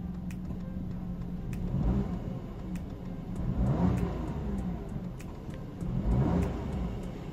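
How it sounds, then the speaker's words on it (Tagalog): Engine of a gray metallic 2025 Toyota Raize E with a CVT gearbox, revving three times in steady swells above a constant idle hum, heard up close with no talking. "paparinig ko na yung guys, yung tunog ng makina"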